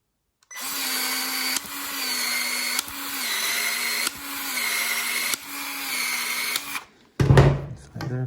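A Milwaukee expansion tool expanding 1/2 inch pipe, a loud whining motor buzz in several bursts of about a second each, then a short harsh crunching burst at the end.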